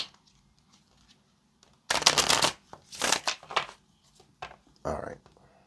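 A deck of tarot cards is shuffled in a few quick, crisp riffling bursts, close and fairly soft, separated by brief pauses and light handling noise.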